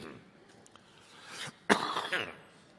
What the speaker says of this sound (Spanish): Ustedes perdonarán que carraspee y tosa durante el primer cuarto de hora